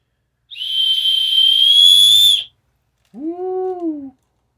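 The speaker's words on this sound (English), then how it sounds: "This is a keychain whistle." A small keychain whistle from a survival kit gives one shrill, sustained blast of about two seconds, loud and close, followed after a brief pause by a short lower-pitched voiced whoop.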